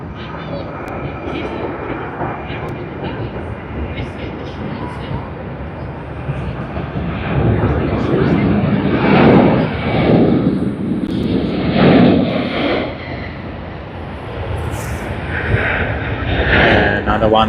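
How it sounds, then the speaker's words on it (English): A Qantas Airbus A330 airliner rumbles at Sydney Airport, a broad, rough jet roar swelling and easing in waves, with someone talking over it throughout. "Quantas A330."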